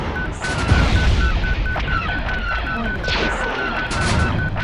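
Missile strikes hit a large ship in a Star Wars space battle, with repeated crashing impacts and bursts over a steady beeping alarm tone, all fairly loud and close.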